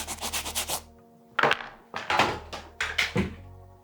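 A cement-covered Yeezy 350 Cobalt Blue sneaker scrubbed by hand, with quick rhythmic brushing strokes first, then several slower, heavier rubbing passes, each with a soft thump, close and alone.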